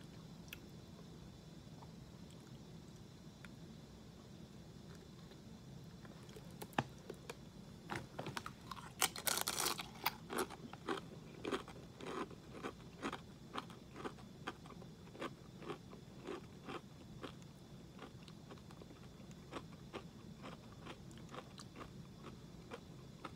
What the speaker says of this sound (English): Let's see how some La Botanera tastes on one of these chips.